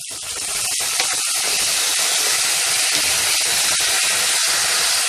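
Vinegar hits a hot pan with garlic, ginger and chopped green chillies and sizzles loudly, a steady close hiss with faint crackles and no talk, all through.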